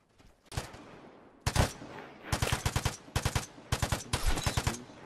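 Gunfire in the video game Vigor comes in quick three-round bursts, with several loud, close, sharp volleys that repeat at a fairly even rhythm after an earlier lone shot.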